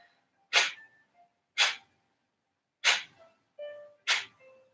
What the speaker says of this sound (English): So it's the breath that pumps the abdomen and comes out of the nostrils